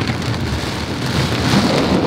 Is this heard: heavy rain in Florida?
yes